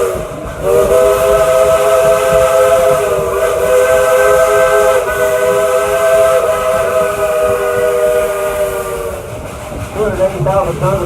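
A 2-8-2 steam locomotive at Dollywood sounds a long, sustained whistle chord lasting about nine seconds, loud and close over a steady hiss of steam, then breaks into shorter wavering toots at the end.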